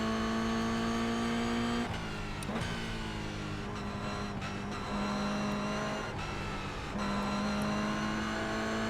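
A Toyota GR86 Cup race car in iRacing holds a loud, steady engine drone that dips with brief throttle lifts and gear changes before pulling again, with faint tire noise and no voices.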